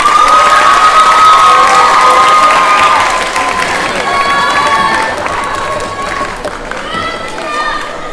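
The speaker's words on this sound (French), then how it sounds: "On les applaudit." Crowd at a prize-giving ceremony in the Limoges opera house cheering and applauding students, a dense sustained roar of clapping and shouts, loud and close, easing slightly toward the end.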